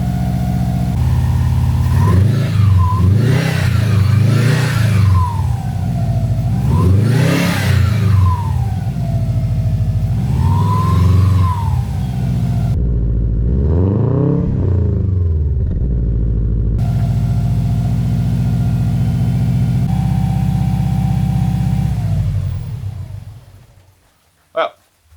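Engine of an abandoned Subaru WRX car revving repeatedly, loud and close, with rising and falling swells over a steady idle before it cuts off near the end.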